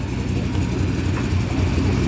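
Modified Dodge truck with drag-style sticky rear tires and skinny front tires, its engine idling rough and loud with a lumpy, choppy rhythm for a couple of seconds, close and alone.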